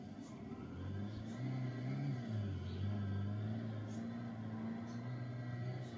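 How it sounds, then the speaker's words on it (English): A car drifts in a video game, its engine whirring and revving in a steady mid-pitched drone with rising and falling tones, quiet and unbroken for several seconds. "That dude is drifting."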